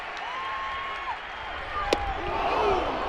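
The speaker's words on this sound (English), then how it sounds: "So a huge round of applause for Jim Thome" Crowd at a White Sox baseball stadium in Chicago applauding Jim Thome, heard as a broad, distant wash of cheering and clapping with whistles and a sharp knock midway, swelling toward the end.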